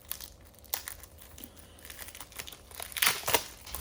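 Plastic wrapping on a Nintendo Switch game case crinkling and tearing as it is opened up close, with scattered rustles building to a louder burst of crackling near the end.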